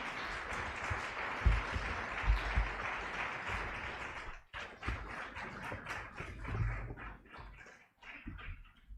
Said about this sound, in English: A round of applause, please, for Steve.